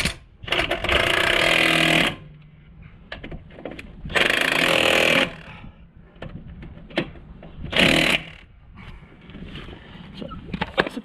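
A power tool drives in the brake caliper bracket bolts on a 2005 Renault Espace, three loud whirring bursts of a couple of seconds each, separated by quieter workshop clatter, close up.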